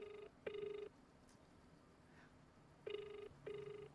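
A phone line rings out on a call in a repeating pattern of short double tones separated by pauses, clear and close, with no talk over it.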